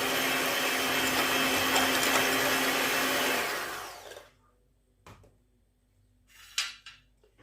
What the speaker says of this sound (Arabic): إذا نخلط شوية هذا البيض كما تعودنا